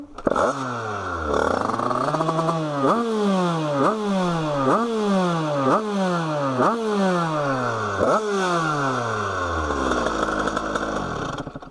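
A derestricted Bidalot 70cc motorbike engine revs hard and loud, climbing and falling in repeated sharp throttle blips about once a second, a buzzing two-stroke whine near the microphone, before settling back to idle at the end.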